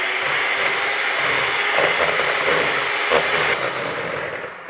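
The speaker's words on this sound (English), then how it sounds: "Going to give that a little whisk through." A whisk beating oil and milk together in a bowl for banana cake batter, a steady rapid scraping churn with a few sharper clinks against the bowl, close and continuous.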